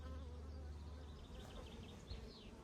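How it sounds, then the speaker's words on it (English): Honey bees buzz steadily around hives on a buckwheat prairie field of about two hectares, a dense continuous drone close to the microphone with no talk. "But you can see overall the bees are working really well."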